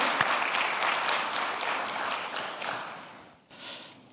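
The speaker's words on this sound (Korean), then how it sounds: "찬양팀 다시 한번 격려의 박수를 드리겠습니다." A church congregation gives a dense burst of clapping for the worship team, loud and continuous, then dips briefly before a smaller flurry of claps near the end.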